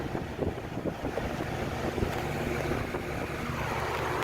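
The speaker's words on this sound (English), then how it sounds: "but you can hear the noise from the fan" Outdoor Lennox Elite Series air conditioner unit running, its fan giving a steady, even whooshing rush of airflow with a low hum, close by and alone, without breaks.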